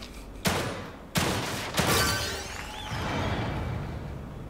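Three sharp gunshots ring out at a shooting gallery in The Evil Within 2, evenly spaced about a second apart, each with a loud crack and a short decaying tail, followed by a quieter lingering ambience.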